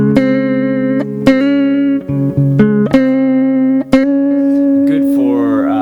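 Electric guitar run through a Line 6 PODxt Live effects unit with a funky, liquid modulation tone, playing sustained chords and notes with sharp pick attacks, a warbling swirl growing at the end; loud and close with no talking.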